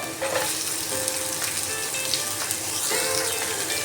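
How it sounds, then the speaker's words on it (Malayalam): Onions sizzle steadily in hot oil in a pan with ginger, garlic, green chillies and curry leaves for an okra and tomato curry, a continuous close frying hiss throughout with small crackles and no talking. "അടുത്തതായി സവാള ഇതിലേക്ക് ചേർത്ത് കൊടുക്കാം."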